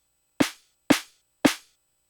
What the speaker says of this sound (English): this snare sounds like this.